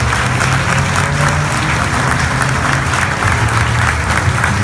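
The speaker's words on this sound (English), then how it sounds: "So let's have a big round of applause for the dynamic duo." A crowd in a Porsche hospitality tent applauds loudly and continuously, many hands clapping in a dense, even wash, with low voices murmuring faintly underneath.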